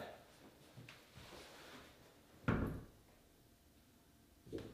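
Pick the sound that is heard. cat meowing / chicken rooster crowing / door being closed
door being closed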